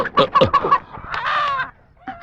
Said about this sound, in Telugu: కోడిని చూసి పట్టుకో